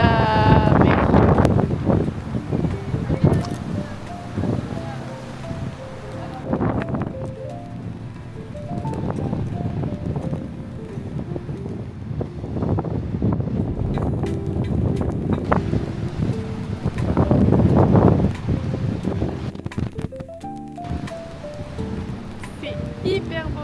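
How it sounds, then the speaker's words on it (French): Strong seaside wind buffets the microphone in loud gusts by natural sea pools in Gran Canaria during a storm, with a person talking under the roar. "Il y a plein de vent."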